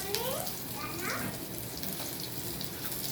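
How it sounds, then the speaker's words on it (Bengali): Cubes of paneer fry in a pan until reddish-brown, giving a steady, even sizzling hiss that continues unbroken at moderate volume, with a faint voice briefly audible early on. "একটু লাল লাল করে পনিরটাকেও ভেজে নেব।"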